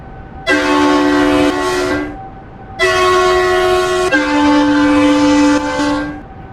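Train horns mixed high and low in the RO-Scale Sandbox video game, two long sustained harmonic blasts separated by a short gap, the second shifting pitch partway through, loud and alone.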